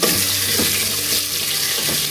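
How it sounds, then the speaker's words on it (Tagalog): Steady oily sizzling of potatoes and carrots frying in a pan, continuous and close, with faint stirring scrapes and no voices. "Lagyan lang natin ng mantika kasi piprito natin ng konti yung ating patatas saka yung carrots."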